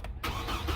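A 2005 Chevy Colorado engine cranks briefly and catches, settling straight into a steady close rumble, no talking.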